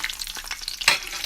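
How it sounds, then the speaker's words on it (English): Garlic cloves frying in a small frying pan, a steady close crackling sizzle with a brighter pop near the middle. "you need to fry"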